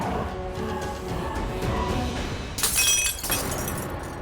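Glass breaks in a TV drama scene, a bright shattering crash with scattered tinkling fragments rising over a steady background of music, loud and close.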